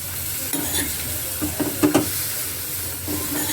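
Fresh brahmi leaves dry-frying in a pan with no oil, giving a steady soft sizzle with scraping stir strokes that grow briefly louder in the middle, close up and without talk.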